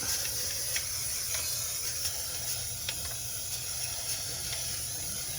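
Aerosol undercoating sprayed from a can onto the underside of a Jeep Wrangler, a continuous faint hiss with short sharp bursts, steady and close, no voices.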